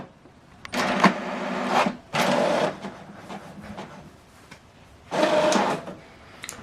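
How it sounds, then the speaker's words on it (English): An HP Deskjet 2820e inkjet printer prints a document, giving three bursts of whirring, buzzing carriage and paper-feed motion separated by quieter pauses with faint mechanical ticking. "Document is printing."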